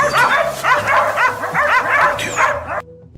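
Hunting dogs barking and yipping outdoors on a rocky slope, rapid excited overlapping barks and whimpers from several dogs at close range, stopping abruptly at the end.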